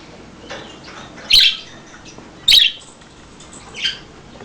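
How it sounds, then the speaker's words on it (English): Baby lovebirds give three short, loud, high chirps spaced about a second apart, close by, with faint softer calls between them and no talking. "He doesn't care if baby lovebirds are making that noise."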